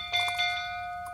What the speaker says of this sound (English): three people walking to the front door and ringing the literal doorbell